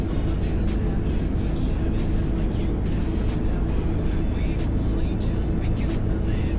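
Bus engine in Fernbus Simulator, a Comfort Class coach, a steady low rumbling drone that stays even and fairly loud throughout with no clear revving.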